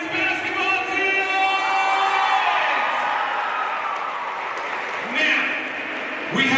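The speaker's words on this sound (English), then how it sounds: "Let's give them a big round of applause." An arena crowd applauds and cheers for the basketball teams, a broad wash of clapping and shouts mixed with amplified announcer talk and echoing reverb, with another swell of cheering near the end.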